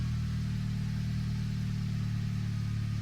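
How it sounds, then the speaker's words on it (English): A 2008 Acura TSX with its 2.4-litre engine runs steadily just after starting, a low, even idle hum holding at constant loudness throughout with no voices. "you can go ahead and turn on your car fully."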